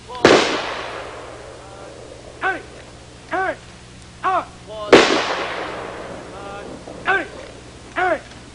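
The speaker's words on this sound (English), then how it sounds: "Marines participate in various ceremonial functions, like cemetery firing parties." A Marine cemetery firing party fires rifle volleys: two sharp, loud cracks about four and a half seconds apart, each ringing out briefly, with a narrating voice speaking in the gaps between them.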